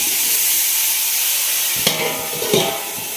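Hot oil sizzles steadily as tempering is added for a pointed gourd and potato curry in a home kitchen, a continuous frying hiss broken by a couple of sharp stirring clinks near the end.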